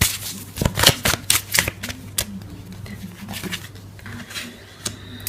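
A tarot card deck being shuffled close up, with a quick run of crisp riffling card slaps followed by softer, scattered flicks and rustles.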